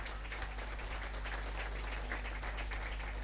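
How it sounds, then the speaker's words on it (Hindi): Crowd applause at a police passing-out parade in Lucknow, a sustained, fairly faint and distant clapping that continues evenly throughout, with no talk over it. "जोरदार तालियां।"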